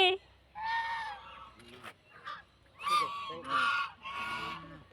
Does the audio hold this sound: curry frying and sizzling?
no